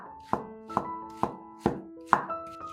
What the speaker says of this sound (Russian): 200 грамм крабовых палочек разрезаем вдоль пополам, а затем нарезаем их небольшими кусочками